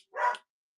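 A single short dog bark, close and moderately loud, heard alone against silence.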